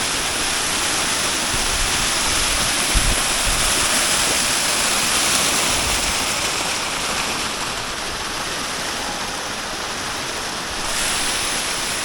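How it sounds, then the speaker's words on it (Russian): A waterfall near Lake Issyk-Kul in Kyrgyzstan roars steadily and loudly, a dense, unbroken rush of falling water heard close up throughout. "Значит, около водопада был."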